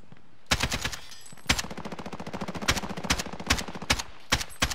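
Sustained automatic gunfire in a battle royale video game, with a fast crackling stream of rounds broken by louder single reports, fairly close and continuous for several seconds.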